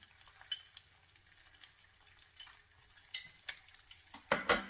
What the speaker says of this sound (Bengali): এখন ডিমটাকে আমি স্ক্রাম্বল করে নেব